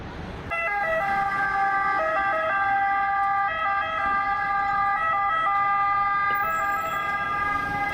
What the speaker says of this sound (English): Those sirens are going off 24/7